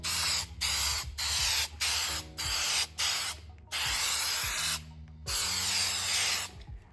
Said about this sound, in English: Shake it a little bit, and just get a quick,